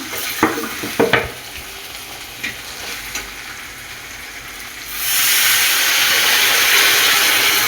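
Hot water poured into frying spicy mutton curry: a few stirring clanks, then a sudden loud, sustained steamy hiss that holds steady close by.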